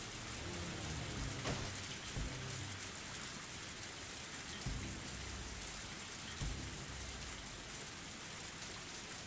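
Video game rain pours down steadily in a dense, even hiss of drops hitting surfaces, loud and continuous with a few faint low thuds underneath.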